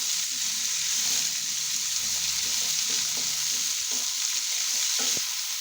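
Yellow pumpkin pieces frying in a pan with potatoes, giving a constant close hiss and sizzle of hot oil with faint scraping and stirring clicks, no talk.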